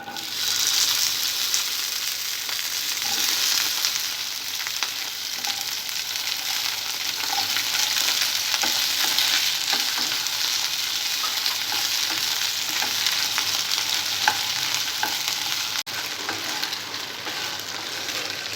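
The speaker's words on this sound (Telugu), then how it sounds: "ఈ ఆయిల్లో బెండకాయ ముక్కలు వేసి రోస్ట్ చేసుకోవాలి." Okra pieces roast in hot oil for bendakaya masala curry, giving a steady, dense sizzle that runs unbroken throughout, close and fairly loud, with occasional faint stirring scrapes and no voices.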